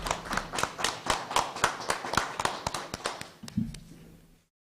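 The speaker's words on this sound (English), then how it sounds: "let's give our students a round of applause" Audience applause for students at a school board meeting: a steady patter of many hands clapping for about four seconds, moderately loud and close, then tapering off and stopping.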